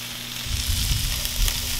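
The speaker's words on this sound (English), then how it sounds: "Frying up the Franks is what Mark likes to call them." Franks (hot dogs) sizzle and fry in a pan, a loud, steady crackling hiss that swells as they settle into the hot oil, continuing without voices.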